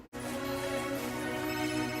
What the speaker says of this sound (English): Important phone call alert.